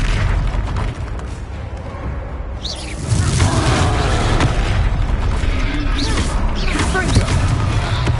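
Fire spell blasts from Confringo in the video game Hogwarts Legacy, cast during a fight: dense, continuous booming bursts and crackling impacts that pile up loudly over a rumbling battle bed with no gaps.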